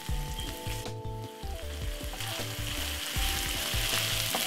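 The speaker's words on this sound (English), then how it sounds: "I'm just gonna make this and fry for one next 3 to 4 more minutes again" Tuna pasta sauce with ketchup sizzles and fries steadily in a pan, a loud, continuous crackle with occasional stirring clatter and no talking.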